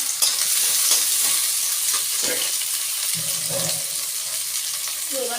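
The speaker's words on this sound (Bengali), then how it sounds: "টমেটো কুচি দিয়ে দেবো টমেটো কুচি দিয়ে দিলাম" Crab and potato curry fries loudly as chopped tomatoes go in, a steady sizzle with stirring scrapes and soft knocks throughout, close and continuous with no talk.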